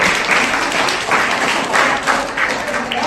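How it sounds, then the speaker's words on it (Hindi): Students in a classroom break into steady, lively applause that fills the whole moment, close and loud. "very good, Tali बजाइए"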